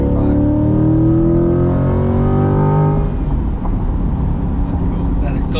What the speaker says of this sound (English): That engine sounds good.